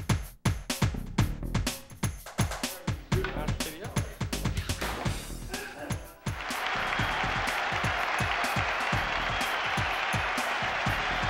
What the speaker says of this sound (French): La foule du Colisée est survoltée pour le match inaugural.